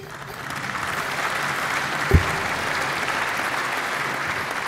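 A conference audience applauds at a downtown state-of-the-city address, giving steady, dense clapping throughout with one sharper knock partway through.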